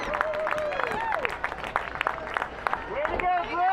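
Spectators at a girls' varsity lacrosse game applaud and cheer in an outdoor crowd, steady clapping mixed with shouts and whistles while an announcer talks over the public address.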